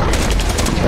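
Rapid gunfire from a gun in the Fallout 4 VR game, a loud, fast burst of repeated shots packed into about a second.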